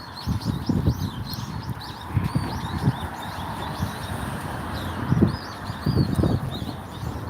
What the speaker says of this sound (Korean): 새들이 그냥 난리 났어